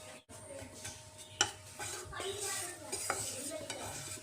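Gentle scraping and stirring of gram flour roasting in a dry pan for Assamese stuffed okra, with a faint crackle underneath, close by and fairly quiet.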